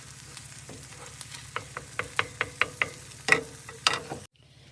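An egg fries while a precooked sausage warms in a pan, a faint sizzle under a run of quick scraping clicks from a utensil, ending abruptly in near silence.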